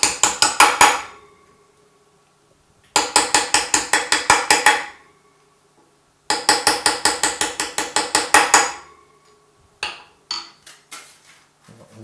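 A knife cuts pieces of brittle nougatine for a pastry chef's nougatine rose: three bursts of rapid, sharp, crisp tapping strikes close by, separated by silences, then a few scattered single clicks, with no speech.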